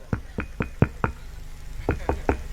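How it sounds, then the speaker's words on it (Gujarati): A door is knocked on in two sharp bursts, five raps and then, after a short pause, three more, close and distinct over a quiet room. "ત્યાં એના દરવાજા ટકોરા થયા"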